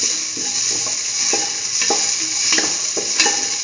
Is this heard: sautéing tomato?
yes